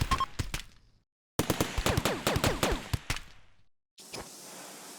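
Rapid bursts of turret gunfire from the video game RimWorld crackle in quick staccato volleys, a short opening spurt then a dense sustained string of shots that trails off, followed by a lower steady hiss.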